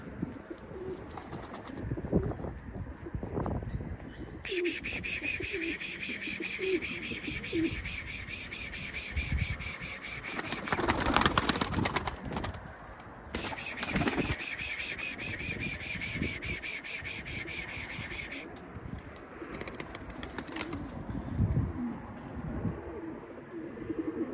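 Tumbler pigeons on a rooftop coo repeatedly in soft, low throaty calls, joined by wing flutters, rustling and wind, with a long steady hiss running through the middle.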